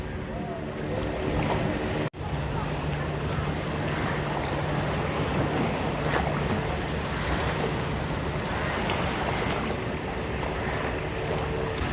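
Sea waves near the Rivercoast beach resort at Devbag, Goa, with a boat nearby: a loud, steady wash of surf and wind rumble that runs throughout, broken only by a brief dropout early on.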